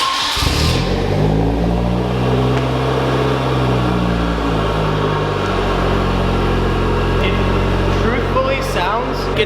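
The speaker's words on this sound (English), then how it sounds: "I'm gonna start the car on the lift, just make sure there's no leaks" A Genesis car sits on a lift and cold-starts, the engine rising into a revving surge and then settling into a steady, fairly loud idle while someone talks over it.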